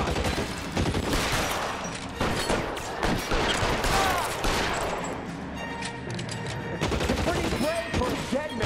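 Rapid bursts of gunfire rattle through a shootout in the video game L.A. Noire, loud and nearly continuous with repeated volleys, while a player's voice reacts over the top.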